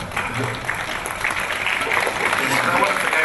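Applause from a theatre audience at an evening talk show in Sydney, a steady mid-level clatter of many hands sustained throughout and swelling slightly toward the end.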